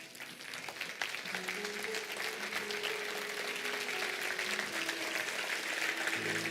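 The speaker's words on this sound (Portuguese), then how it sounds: "Se coloque de pé, aplaudindo ao nome do Senhor." A church congregation claps together in sustained, dense applause, with a faint musical tone running underneath the steady clatter of hands.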